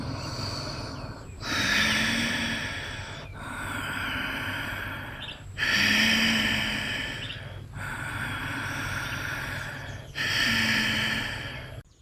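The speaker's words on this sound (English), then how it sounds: "The Ujjayi breath is deep, strong, and slow." Deep, slow Ujjayi yoga breathing, with strong hissing breaths rising and falling in long cycles, close and steady with no talking.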